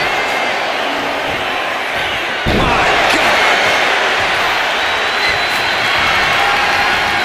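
Arena crowd noise from the WWE 2K25 wrestling video game, a steady broad roar that swells sharply after a heavy slam impact midway and stays loud to the end, with a commentator's brief exclamation over it.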